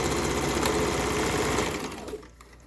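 Sewing machine back stitching fabric, running in a fast steady mechanical whir with rhythmic needle clatter up close, then slowing and stopping near the end.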